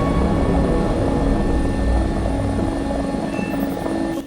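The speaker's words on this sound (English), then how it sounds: "the top-tier helis seem to be flying high up to try and get a visual on where they might be coming from" Military helicopters fly in a video game, giving a loud, continuous rotor and engine drone that holds steady throughout with no talk.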